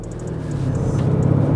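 Lamborghini Urus 2021 pulling away gently at the start of a test drive, a low steady engine rumble and road noise building slightly, heard from inside the cabin.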